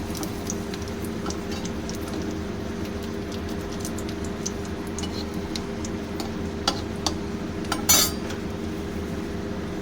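Bay leaf and chopped chilli sizzle in hot oil as a tempering for a Bengali ash gourd ghonto, a steady close frying hiss with a few faint clicks of a utensil and one sharper clink.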